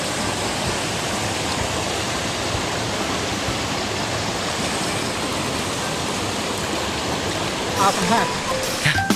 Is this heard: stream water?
yes